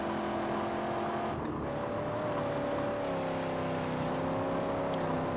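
A vehicle driving in the Mad Max video game, a steady engine drone with shifting pitch that holds throughout at moderate level, with no talk.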